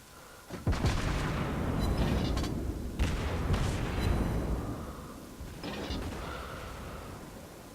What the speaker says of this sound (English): We can actually set our secondaries off